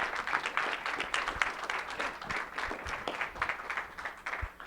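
Audience at a talk on Colorado River water rights applauding a presenter, steady dense clapping throughout, moderately loud and close.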